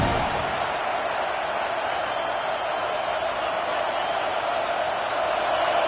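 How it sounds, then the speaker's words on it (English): A stadium crowd in a college football video game against Clemson roars steadily during a red zone defensive stand, a dense, continuous wall of noise without pause. "here comes the noise. This crowd is trying to inspire this defense to make a big red zone stop"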